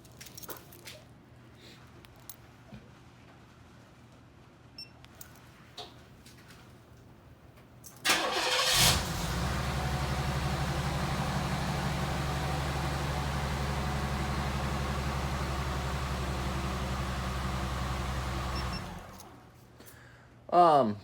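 A 1988 Cutlass car engine cranks and catches, then settles into a steady low idle for about ten seconds before shutting off, heard close up over quiet background.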